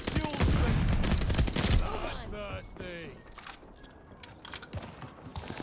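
NZ-41 rifle shots in Call of Duty Vanguard come as a quick loud volley at the start, followed by scattered fainter distant shots and game chatter and effects.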